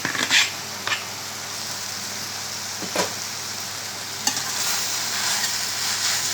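Noodles and crisp vegetables frying in a pan for chicken chow mein, a steady sizzle close by, broken by occasional scrapes and clinks of stirring.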